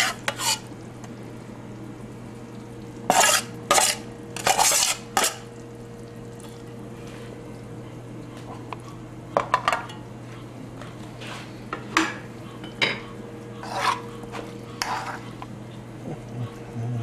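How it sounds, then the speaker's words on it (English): Tomatoes, mushrooms and garlic cooking in a pan for risotto, with a spoon stirring and scraping in a few sharp, close clatters over a low steady hum. "Cook the tomatoes, mushrooms, garlic."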